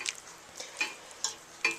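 A spoon stirs a green tomato jelly mixture in a pot, giving soft scraping swishes at a steady pace of about four strokes, close and quiet, with no talk.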